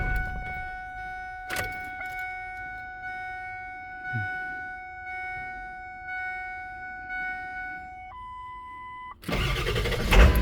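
A Ford F-350 truck's engine cranking and catching near the end after a quiet stretch dominated by steady electronic chimes and beeps, the motor roaring up loud and close.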